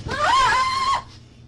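A woman screams in terror during an armed robbery at a corner market, caught on surveillance footage: one loud, sustained, wavering shriek of about a second that breaks off abruptly, leaving faint room noise.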